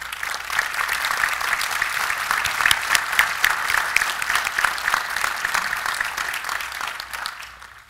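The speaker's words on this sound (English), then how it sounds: "Let's give a round of applause to Mr." Loud, sustained applause from a commencement crowd at Carnegie Mellon University honoring Jim Rohr, dense crisp clapping that swells in the middle and tapers off at the end.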